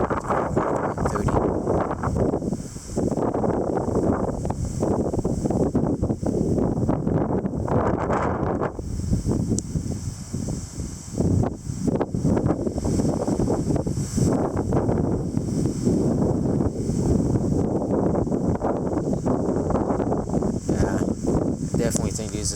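Strong wind gusts roar steadily on a rainy night around 1:30 a.m., a broad continuous rush with rising surges that buffets the microphone, with scattered speech mixed in throughout.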